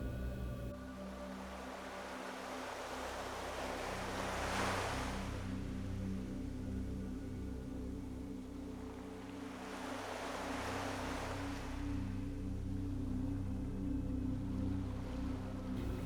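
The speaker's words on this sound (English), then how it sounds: "Visualize the calming sound of the waves coming and going, mirroring your breath." Ocean waves roll in and wash out in two slow, broad surges over a steady low rumble, distant and soft, with no voices present.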